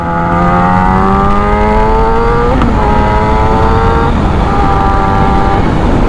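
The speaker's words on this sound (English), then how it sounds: "Like I said, this is a loud bike." A 2017–2021 Yamaha YZF R6 motorcycle in black Raven finish roars loudly through its exhaust on a ride, engine note rising steadily, dipping briefly, then climbing again under constant wind rush.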